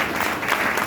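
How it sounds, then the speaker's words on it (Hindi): Loud applause from a crowd at a religious storytelling gathering, a dense steady wash of clapping with no gaps through the whole short burst. "एक बार इसके लिए ताली बजाओ जोरदार"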